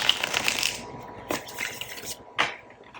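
A deck of tarot cards with gilded edges and silver backs on smooth cardstock is shuffled close by, a dense papery riffle at first followed by a few softer separate flutters and slaps.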